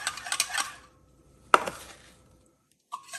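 A utensil clinks against a vessel while jaggery powder is stirred into water: a few scattered light taps, then one sharp, loud clink with a short ring, and a quieter knock at the end, all separated by near-silence.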